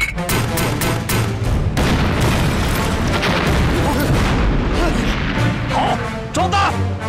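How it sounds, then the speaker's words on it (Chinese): Artillery cannon fire in a war film, heavy loud booms and crashing blasts with sharp impacts, dense rumbling battle noise throughout and a few shouted voices near the end. "准备完毕。 开炮！"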